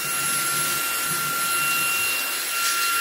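A eufy cordless vacuum cleaner runs on high speed while picking up M&Ms, making a loud continuous broadband whoosh that stays steady throughout with a faint rattle of candy underneath and no talking.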